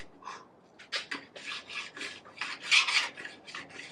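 A Panzer file rasps along the metal edges of a new pair of children's skis, in a steady series of about a dozen short, gritty strokes, close and fairly quiet, with no talking.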